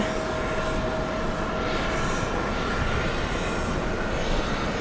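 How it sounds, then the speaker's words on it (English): An Air India airplane takes off at JFK airport with a continuous loud engine roar that stays steady and dense throughout, and no talking is heard. "I didn't even notice that this Air India plane was like on its way out."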